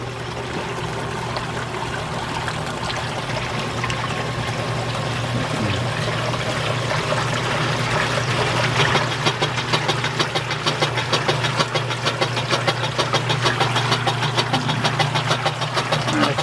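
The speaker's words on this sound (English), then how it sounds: "So now it's getting to the spin cycle, drain cycle." An older Whirlpool Heavy Duty top-loading washing machine motor hums and churns with water draining, the sound growing into a rapid rhythmic pulsing as the spin picks up.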